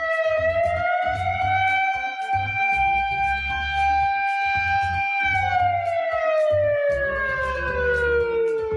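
A siren wails loud and near, a high tone holding steady before slowly sliding downward, with a rhythmic low chugging pulse beneath it.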